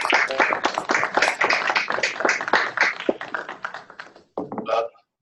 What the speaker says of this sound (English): giving a warm round of applause to Pro Football Hall of Famer